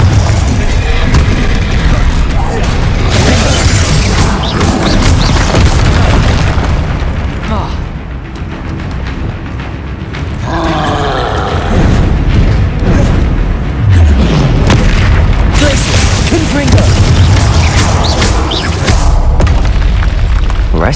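Spell blasts in the Hogwarts Legacy video game, fighting a troll: loud, dense booms and bursting explosions with rumbling impacts that continue almost throughout, lulling briefly midway, mixed with game music and voices.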